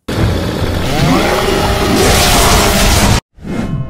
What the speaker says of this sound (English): who doesn't love a good chainsaw kill?